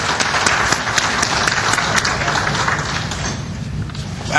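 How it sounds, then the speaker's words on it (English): An audience at a community breakfast during an annual Muslim convention claps in sustained, fairly loud applause, a dense crowd of hands continuing throughout with no speech over it. "I think we ought to really give them a round of applause."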